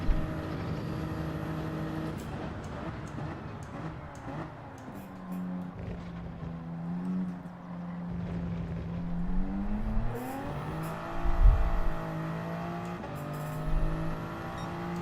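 Toyota Supra race car engine in Gran Turismo 7 drones steadily, its pitch rising and falling through gear changes and revs, with a brief louder burst near the end.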